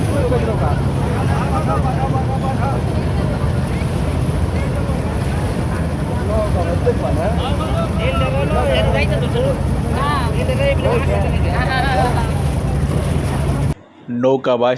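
Steady low engine drone of motorized trawler boats racing on a river, continuous and fairly loud, with people talking over it and a brief cut near the end.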